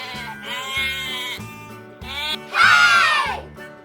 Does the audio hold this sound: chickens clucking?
no